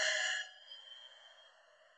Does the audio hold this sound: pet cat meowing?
no